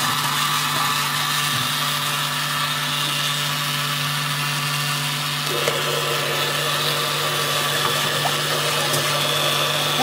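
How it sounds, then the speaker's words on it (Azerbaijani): A blender at its lowest speed mixes bananas and milk for a milkshake, producing a continuous, fairly loud whirring drone that holds steady with a slight change in tone partway through. "blenderin ən cüzdü xoduna qoydum"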